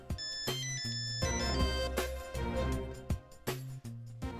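A phone ringtone plays as a melodic electronic tune, repeating its bright, pitched pattern several times at close range and moderate volume, with no one talking over it.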